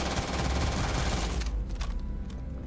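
Rapid automatic gunfire in the video game Starfield, a dense loud burst for about a second and a half, then a few scattered shots and echoes trailing off.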